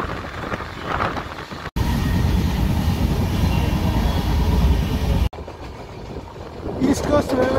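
Konark Express running through the East Coast Railway zone toward Visakhapatnam, a loud continuous rumble of wheels on track in the middle stretch, quieter carriage interior noise before and after with some background voices.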